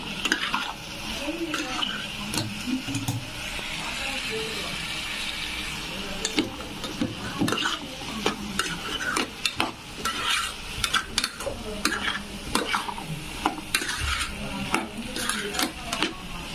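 Potatoes frying in a pan with turmeric, a continuous soft sizzle under repeated scraping and clinking of a spoon stirring against the metal, close and moderately quiet.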